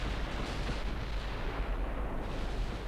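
Naval gunfire hits in a warship video game, a dense rumbling barrage of heavy booms and crackling impacts that roll on continuously at steady loudness.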